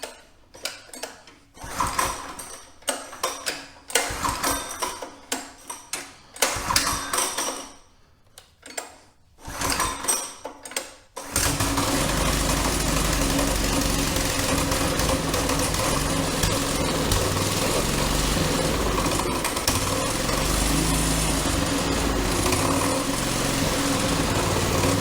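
An old go kart's small engine, its carburetor freshly cleaned, coughs through several sputtering attempts and short bursts before catching, then settles into a loud, steady, buzzing idle close by.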